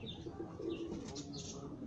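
Soft cooing from pigeons kept by a fancier, low murmuring calls with faint chirps, heard quietly and close against a dull background.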